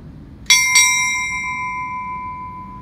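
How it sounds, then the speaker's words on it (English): Two clear bell strikes at a 9/11 remembrance ceremony, struck in quick succession and ringing out with a long, steady, slowly fading tone over quiet background. "Strike two bells in remembrance of American Airlines Flight 77."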